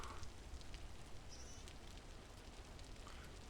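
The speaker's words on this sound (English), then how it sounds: "I know that there's a lot of rain sounds in here right now." Rain keeps up a soft, steady patter and hiss in the video game Vintage Story, faint and continuous, with no talking.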